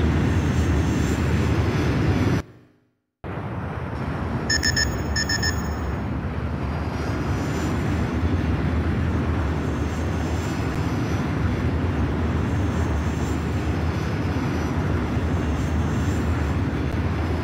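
Jet aircraft engine roar in the Ace Combat X2 video game during a landing approach, a loud continuous broadband rush that cuts out briefly, then returns with a short electronic beeping.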